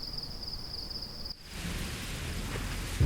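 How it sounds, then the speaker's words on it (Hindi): Heavy rain falling at night in a rural Indian village setting, a steady broadband hiss that thickens after a brief pause midway, with a faint high whine early on and no voices. "ये देखो कितनी तेज बारिश हो रही है"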